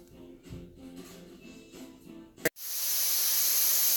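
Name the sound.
hamburgers sizzling on Gotham Steel smokeless grill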